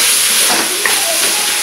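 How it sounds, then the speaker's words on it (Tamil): Tomato and brinjal sautéing together in a pan, giving a loud, continuous steamy hiss and sizzle that stays steady throughout the short stretch with no talk over it. "கொஞ்சம் நல்லா எல்லாத்தையுமே சேர்ந்து வதக்கிக்கலாம்."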